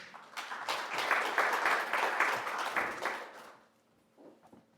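A workshop audience at a nuclear safety regulation event applauds to welcome a speaker. A burst of clapping swells for about three seconds, then dies away, leaving faint room sounds and a soft voice.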